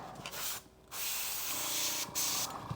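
An airbrush sprays thinned paint for miniature models in short steady hissing bursts, each pausing briefly before resuming, close and fairly quiet.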